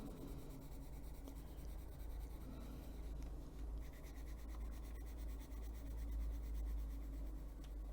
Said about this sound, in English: Kind of move your pencil in different areas or different angles to get the even coating here.